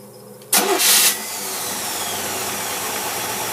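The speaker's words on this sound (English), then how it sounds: "we're going to start this thing up, show you how sweet it runs" An engine fitted with a Holley four-barrel carburetor with manual choke cranks briefly and catches, then settles into a steady, loud idle close by.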